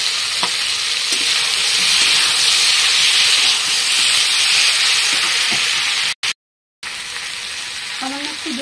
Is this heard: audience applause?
no